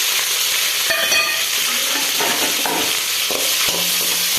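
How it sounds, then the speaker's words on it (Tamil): Crushed garlic, curry leaves and three broken dried red chillies fry in oil for spicy puffed rice: a loud, continuous hissing sizzle with scattered crackles and a few stirring scrapes, close up, with no voices. "இந்த எண்ணெயில் பூண்டு நல்லா வணக்கிடுங்க"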